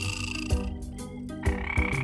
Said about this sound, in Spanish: ¿oíste eso? Sonó como una rana.